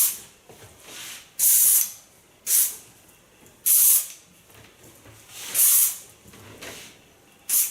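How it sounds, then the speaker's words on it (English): Dry shampoo sprayed onto soft, long hair during a salon styling after blow drying, heard as five loud, separate aerosol hisses spaced about a second apart, each lasting under a second, with faint room noise between them. "Give it a bit dry shampoo."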